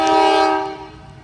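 A train horn blares close and loud on the repaired North Track in East Palestine after the derailment, one sustained chordal blast that fades away within about a second.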